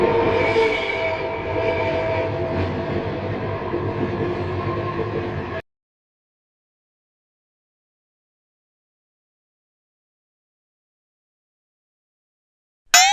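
A train rumbles steadily at an empty railway junction at midnight, a loud rolling hum with a whistle-like tone for several seconds, then cut off abruptly into silence, with no voices.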